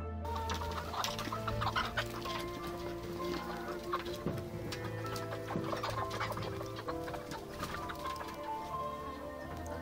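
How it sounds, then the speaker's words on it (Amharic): Chickens seeing snow for the first time cluck and murmur steadily, several birds close together with overlapping calls and a low continuous hum, no one speaking. "ለመጀመሪያ ጊዜ በረዶ ያዩት ዶሮዎች"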